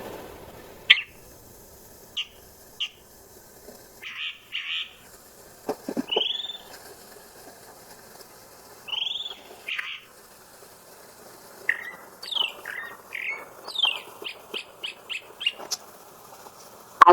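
Chalk-browed mockingbird, a mimic of other birds, singing varied, separated phrases: sharp chirps and whistled notes in bursts, faster runs of repeated notes near the end, close and clear over a quiet background.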